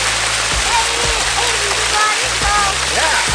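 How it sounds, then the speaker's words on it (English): A waterfall splashes steadily on a hot day as feet dangle in the water, a loud, constant rushing hiss with faint chirping birds over it and occasional low thumps. "putting my feet in the waterfall, and it feels actually amazing"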